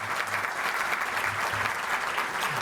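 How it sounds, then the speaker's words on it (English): A breakfast audience at a regional chamber of commerce event applauds its sponsors with sustained, dense clapping from a large crowd that stays steady throughout. "Please give them all a round of applause."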